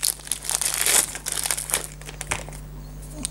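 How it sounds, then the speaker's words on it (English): Crinkly plastic packaging of a new Epson label printer cartridge (Epson C4000e) is torn and ripped open by hand, giving a burst of close crackling and crumpling over the first couple of seconds that then tapers off. "There's a small tear at the top, which allows you to rip open the pack."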